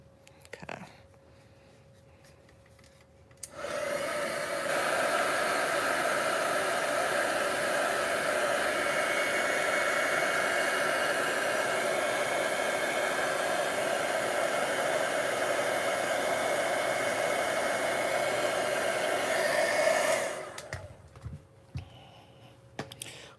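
A heat tool or dryer blows steadily over a watercolor card for about sixteen seconds, a loud, even rushing hiss that starts abruptly and cuts off, with quiet room sound before and after.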